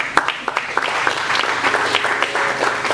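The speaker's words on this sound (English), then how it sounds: "Clap for Jesus Christ." A church congregation applauding during a sermon, a steady spread of hand claps with a few sharper individual claps standing out, moderately loud and continuous throughout.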